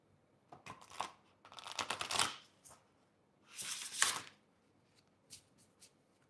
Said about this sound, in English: So, S. Wallace, we're going to give this a bit of a shuffle.